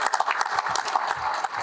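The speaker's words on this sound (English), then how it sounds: "give him a round of applause" Audience applause at a bipartisan congressional listening session, a brief patter of scattered clapping from a modest group in a room, fairly even in level across its short span.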